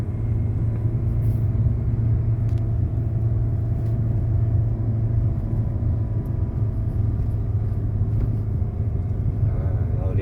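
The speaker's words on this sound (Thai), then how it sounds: "เราก็แตะคันเร่งช่วยครับ ให้มันขึ้นเนินไปครับ" A Mitsubishi Xpander with automatic transmission climbing a steep hill road, its engine giving a steady low droning rumble throughout, with someone talking over it.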